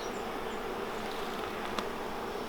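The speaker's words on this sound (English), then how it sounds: "Lots of new bees." Honey bees buzzing around an open hive during a frame inspection, a dense continuous drone of many wings, close and steady with no talking.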